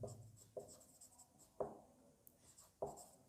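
Handwriting during a Class 12 maths lesson on derivatives: faint, close scratchy strokes in four distinct bursts, each a quick scrape that tails off, with no talking.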